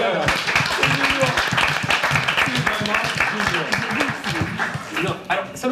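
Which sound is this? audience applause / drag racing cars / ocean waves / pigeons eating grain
audience applause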